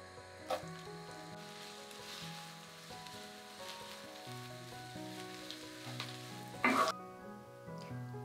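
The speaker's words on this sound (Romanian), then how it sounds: "Prăjim ciupercile 7-8 minute" Steady crackling sizzle of oyster mushrooms frying in butter in a pan, continuous and close, with a brief louder burst of spattering near the end.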